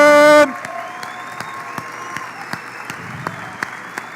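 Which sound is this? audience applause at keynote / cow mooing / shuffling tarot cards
audience applause at keynote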